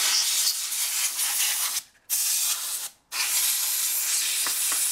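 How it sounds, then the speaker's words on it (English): Loud, close bursts of a compressed air duster blowing dust out of a laptop hiss in three long sprays separated by two brief pauses. "use a duster bottle to blow out the dust"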